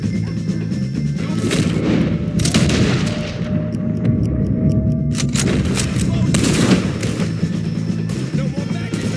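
Red Dead Redemption 2 shootout against O'Driscoll gang members: dense, repeated gunfire crackles and booms over rumbling background action, with voices shouting in the mix.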